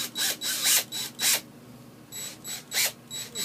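A small drill bit bores into the hand of a 1/6 scale figure in short, close bursts, about five quick whirring pulses separated by brief pauses, loud and alone without talk.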